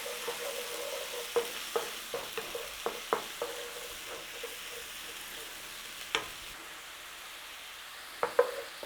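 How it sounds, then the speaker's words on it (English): Garlic ginger paste, about a tablespoon and a half, goes into a warm pan for a slow-cooked lamb nihari and sizzles faintly while a utensil makes a scattering of light clicks and scrapes. "Now we're going in there with a good tablespoon and a half of garlic ginger."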